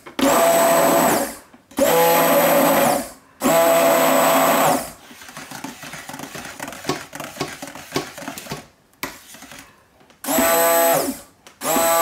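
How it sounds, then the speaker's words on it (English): Handheld stick blender churning liquid soap paste, three loud sustained motor bursts with pauses, a quieter stretch of stirring and scraping between, then another burst near the end. "Stop with the stick blender and stir manually."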